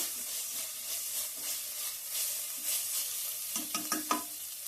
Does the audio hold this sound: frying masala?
yes